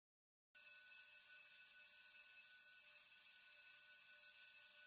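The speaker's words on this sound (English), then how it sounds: "the timer can play reminder sound periodically" After a brief silence, a countdown timer's high-pitched electronic reminder alarm beeps continuously at a steady, even level until the end.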